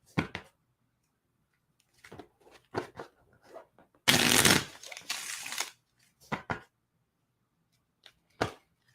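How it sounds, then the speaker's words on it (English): A new, stiff deck of playing cards is shuffled in short riffling bursts, one longer riffle in the middle, close and crisp against quiet pauses. "But the main thing is when you're shuffling, give a good shuffle."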